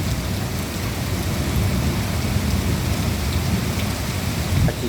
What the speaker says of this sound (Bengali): আজকে শেষ মুহূর্তে বৃষ্টিটা কত সুন্দর বৃষ্টি, দেখো অসাধারণ বৃষ্টি, অসাধারণ।